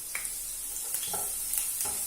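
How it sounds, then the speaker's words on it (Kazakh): Garlic fries in heated oil in a pan with a steady sizzle, close and moderately loud, punctuated by scraping stirs with a utensil, alone with no talk. "Чесногымызды қуырып аламыз."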